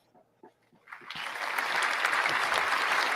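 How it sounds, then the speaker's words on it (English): Applause from a small group on a podcast swells in after a few soft taps and holds steady and dense, close and moderately loud. "Round of applause for you."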